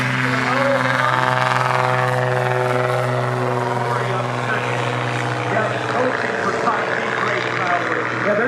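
Large STOL airplane grossing about 3,000 pounds taking off at EAA AirVenture Oshkosh, a loud sustained propeller and engine drone with strong steady harmonics that shifts slightly in pitch as power builds, with voices talking over it.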